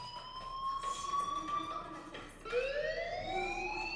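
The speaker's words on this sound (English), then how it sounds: "do you hear that fire alarm?" A fire alarm rings in the Life is Strange video game: a sustained electronic tone with bright overtones that holds steady, breaks off briefly, then returns with a rising sweep, continuous and fairly prominent.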